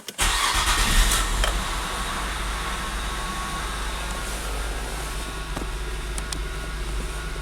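A cold 1997 Nissan Maxima engine cranks and catches at once, then settles into a steady, fairly loud, slightly elevated idle close by.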